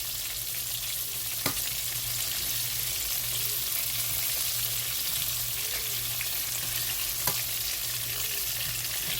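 Thick flounder pieces fry in a pan with a steady, close hissing sizzle and a couple of brief utensil clicks, no talking.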